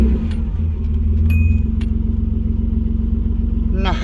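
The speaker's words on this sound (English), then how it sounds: "So let's see if she fires up. Let that fuel pump prime." A Nissan 200SX S12 with a freshly swapped engine running loud and close, a steady low rhythmic idle throbbing throughout, with a brief tonal whine and light clinks over it.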